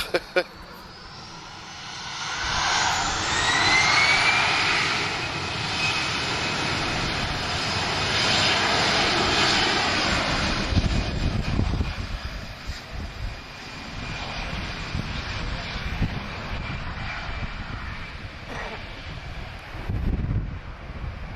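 A British Airways jet at Lisbon Airport rumbles loudly with rising engine whine, swelling over the first ten seconds then fading into a softer roar, with wind buffeting the microphone and someone talking beneath.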